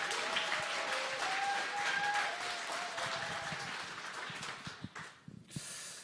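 Audience clapping at a church evangelism camp forum welcoming a pastor, a steady mid-distance applause that fades out after about five seconds, with a brief murmur of voices.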